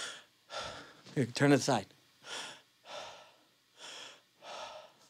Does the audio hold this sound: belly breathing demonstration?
yes